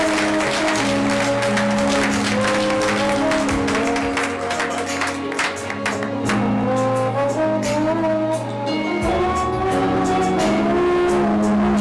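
A church congregation at a New Year's Eve worship service clapping in praise, steady rapid handclaps from many people over sustained organ or keyboard chords, loud and continuous.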